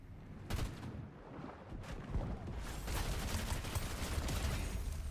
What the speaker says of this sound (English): we've got some gunfire over by the canyons